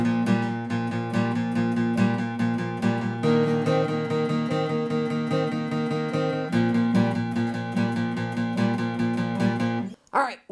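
An electric guitar plays a blues-rock riff using a second finger, rhythmic repeated double-stop strums ringing steadily, then a brief stop near the end.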